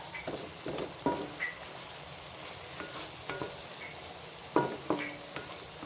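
Chili peppers are stirred in a frying pan for Bicol Express, with a soft steady sizzle under repeated scraping and clinking of a utensil against the pan.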